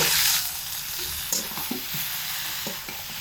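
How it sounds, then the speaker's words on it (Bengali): Drained cabbage tipped into a pan of sizzling fish-head masala, with steady frying hiss under scattered stirring scrapes and knocks of a spoon in the pan. "এবার এই জলঝাড়া বাঁধাকপি এর মধ্যে দিয়ে দিচ্ছি।"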